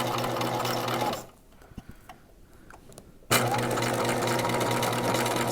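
A sewing machine stitches elastic into a gown, running loud and close for about a second, stopping for a quiet gap with small handling clicks, then starting up again at full speed.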